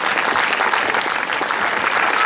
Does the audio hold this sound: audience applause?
yes